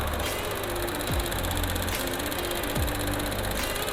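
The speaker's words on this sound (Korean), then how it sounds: "엔진 소리도 일정합니다" A Chevrolet Trax 1.4 engine idles steadily close by, an even mechanical hum with a faint regular tick and no talking.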